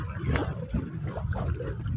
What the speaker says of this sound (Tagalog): Biglang lakas ng hangin kasi, no? Lakas na ng alon.